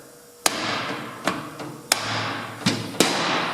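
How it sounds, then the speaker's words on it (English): A rubber hammer strikes the back surface of a Hydromax part to knock the rubber loose: five sharp, solid thuds at uneven intervals, each followed by a brief ringing decay. "using a rubber hammer, pretty good hammer, you've got to hit the back surface to dislodge that rubber"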